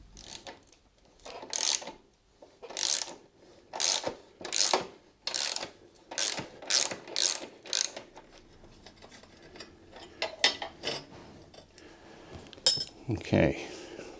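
A ratchet working the seat mounting bolts loose on a Royal Enfield Classic 350 motorcycle, a series of short clicking ratchet bursts close by, followed by scattered metallic clinks and handling noises.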